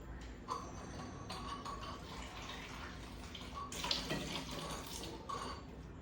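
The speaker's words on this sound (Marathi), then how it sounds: "लगेच हे वॉश करून घेऊया आपण" Soybeans are washed in water, with a faint, continuous running and sloshing of water and a few small clinks of a vessel, quiet and close with no speech.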